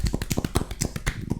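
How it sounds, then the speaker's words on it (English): Light, quick golf clap from a few people in a podcast studio, a rapid run of soft, close taps that keeps a steady patter throughout. "And that was a golf clap."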